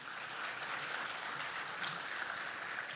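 A luncheon crowd applauding award winners, a steady wash of many hands clapping, distant and faint, with no gaps across the few seconds.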